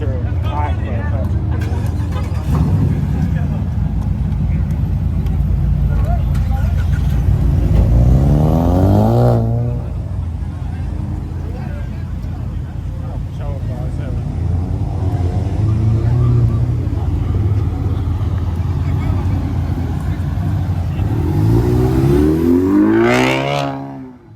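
A 5.7-liter SRT Jeep revs loudly and nearby at a pop-up car meet, its engine pitch climbing and falling in a couple of strong pulls beneath a steady drone, while people talk over it.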